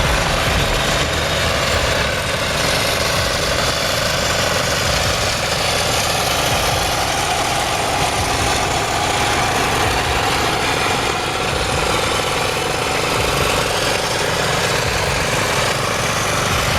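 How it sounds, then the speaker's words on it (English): A large, long, heavily loaded truck grinds through a tight curve on a freezing road in Yakutia, its deep engine droning steadily and loud for the whole stretch with no talk over it. "A large, long, and heavily loaded truck was struggling hopelessly through a tight curve."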